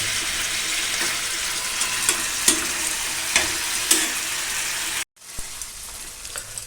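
A four-kilo bhakur fish fries in masala with a constant close sizzle, punctuated by occasional clinks and stirs, before a brief cut and a quieter continuation of frying.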